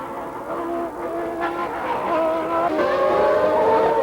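Formula One cars race at the Brazilian Grand Prix, engines screaming and shifting pitch as they pass, loud and fairly close over a few seconds.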